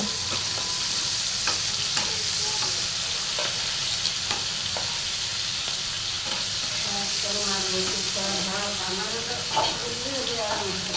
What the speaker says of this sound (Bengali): এরপরে আমি সুন্দর করে মাছগুলো উল্টে পাল্টে ভেজে নিব।